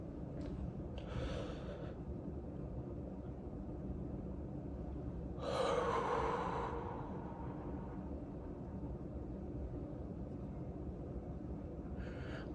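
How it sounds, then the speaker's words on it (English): A person breathes during a slow breathing exercise, with a short breath early on, then one longer, louder exhale a few seconds later and another faint breath at the end, set against a steady low hum. "we're going to do the 4-4-4 exercise, which involves us breathing in for 4 and then breathing out for 8"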